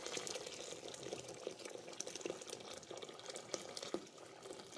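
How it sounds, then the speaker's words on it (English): Water pours steadily from a kettle into a pressure cooker already holding boiling water, giving a faint, continuous splashing and gurgling rush. "I'm going to add some more water from my kettle."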